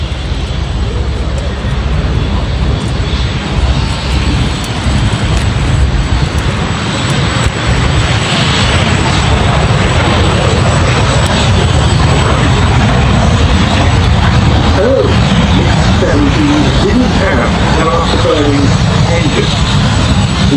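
A Polish license-built MiG-17F jet fighter flying at the Duxford Summer Airshow, heard as a loud, steady engine roar that fills the whole stretch without letting up.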